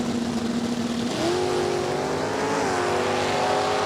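Drag race cars launch down the strip with loud, sustained engine roar and rising pitch as they shift, heard close and continuous.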